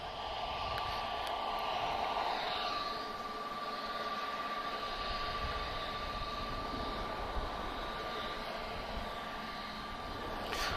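Jet aircraft at Lisbon Airport, an Airbus Neo holding for takeoff and an Embraer on approach, produce a faint, distant, steady engine roar under a broad wash of background noise.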